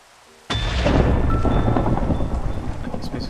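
A Minecraft thunderstorm opens with a sudden crack of thunder that rolls into a sustained rumble over steady falling rain, loud and continuous after a quiet start.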